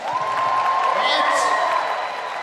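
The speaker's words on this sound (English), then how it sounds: "Can I get a round of applause?" A swimming championship crowd in Melbourne applauds and cheers after a world-record race, a broad, sustained roar of clapping and whoops with a voice speaking over it.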